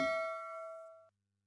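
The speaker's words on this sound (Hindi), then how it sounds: "घंटी बजा देना" A single clean bell ding sound effect rings out clearly and decays smoothly to silence after about a second.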